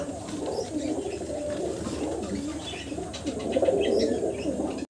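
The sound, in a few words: male fancy pigeon cooing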